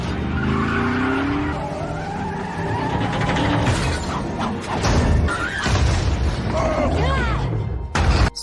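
Cars skid, crash and flip over in an action film chase scene, with screeching tires, heavy impacts, booms and shattering debris piling up over several seconds, loud and chaotic, ending in a sharp final smash.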